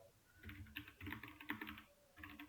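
Soft, close clicks of computer keyboard keys being pressed, a short run of taps and presses at low volume with no talking.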